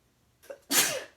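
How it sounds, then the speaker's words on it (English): A woman sneezes once, close and loud, with a brief sharp intake of breath followed by a burst of noisy air. "I'm going to sneeze."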